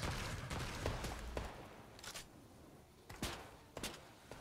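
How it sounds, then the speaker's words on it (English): Gunfire in the video game Fortnite comes as a fusillade of quick, sharp shots. An early burst is followed by scattered single cracks at moderate distance, set against a busy background. "Someone's shooting at us"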